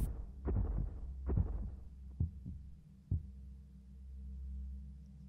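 Heartbeat effect in the horror video game The Mimic: a few dull, low thumps at uneven intervals, fairly quiet over a steady low ambient drone, with no talk.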